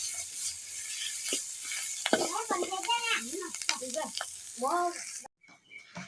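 Bird meat and mushrooms stir-fried in a pan give a steady, close sizzle with scraping stirs, while a person talks over it; the sizzle drops out briefly near the end.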